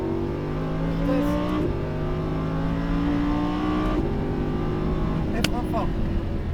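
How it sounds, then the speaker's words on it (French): A Lamborghini Huracán accelerates around a circuit at Fay-de-Bretagne, its engine droning loud and close and rising in pitch through the gears, with a shift break midway. An instructor talks over the engine. "Allez, on tourne et on accélère de plus en plus."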